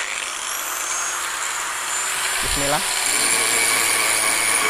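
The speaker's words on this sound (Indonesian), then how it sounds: "Kita pakai gerinda batu, grinding wheel." A power grinder with a stone grinding wheel runs continuously, flattening a badly dished whetstone. It gives a steady high whine and gritty abrasion, with a brief low thump midway and someone speaking briefly over it.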